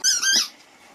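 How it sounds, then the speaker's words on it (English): A squeaky dog toy is squeezed once, giving a short, shrill squeak that fades into quiet, close and alone. "Four very squeaky things."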